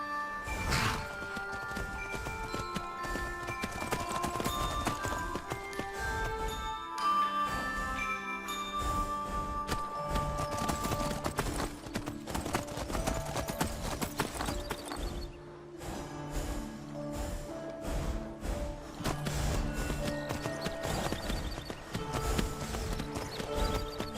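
Horse hooves clip-clop in Skyrim, played with the Rigmor of Cyrodiil mod: a steady, close rhythm of hoofbeats that continues throughout, with music or ambience underneath.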